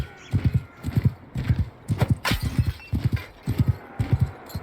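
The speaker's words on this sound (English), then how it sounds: "Let's get back on the horse. And let's go." Galloping horse hooves in Mount & Blade II Bannerlord, a steady rhythmic clip-clop of triple beats repeating close and loud for several seconds, with a brief whoosh partway through and no talk.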